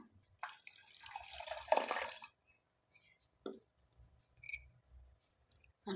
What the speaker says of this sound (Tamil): இந்த அரை கப் தண்ணி இதில் ஊற்றிக்கலாம்.